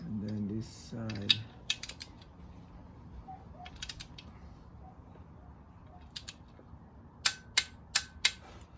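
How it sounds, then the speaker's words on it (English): Sparse ratchet clicks come in short bursts and single ticks while exhaust manifold bolts are tightened in a crisscross pattern on a 2004 Mazda Tribute V6 with a broken manifold. A low voice is heard briefly at the start. "I'm just going around the bolts crisscross like that, starting from the middle until I finish tightening all the bolts"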